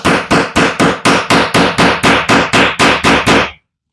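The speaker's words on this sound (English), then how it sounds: "So I'm going to give this a few little whacks with a hammer." Metal repeatedly struck against a MIG-welded steel joint in a strength test, fourteen loud, sharp, evenly spaced clanging hits in quick rhythm before stopping abruptly.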